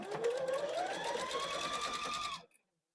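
A sewing machine stitches quilt fabric on a diagonal, corner to corner, in one steady, close, rapid run whose whirring pitch climbs, then stops abruptly.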